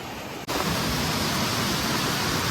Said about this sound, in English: the water is really loud here